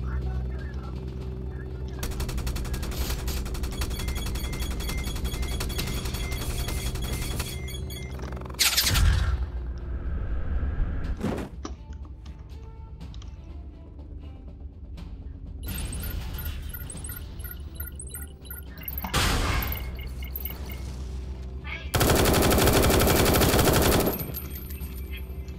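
Gunfire and machine-gun bursts from the combat video game War Tycoon, with long sustained automatic fire, separate loud shots and a heavy blast near the end, under players talking.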